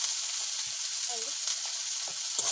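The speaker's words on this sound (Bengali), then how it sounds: "আলু আর বেগুন একলগে শাকের জন্য ভেজে নেব।" Potatoes and eggplant frying together in a pan, cooked as part of a spinach dish, give off a steady, close sizzle and hiss with a few soft stirring scrapes and no talking.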